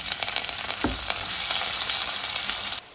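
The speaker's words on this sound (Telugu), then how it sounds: "దానిలోకి పోపు దినుసులు ఏం అవసరం లేదండి, జస్ట్ ఆవాలు జీలకర్ర వేసుకుంటే సరిపోతుంది." Mustard and cumin seeds sizzle in hot oil in a thick pan, with a constant close frying hiss, a few sharp pops, and an abrupt drop near the end.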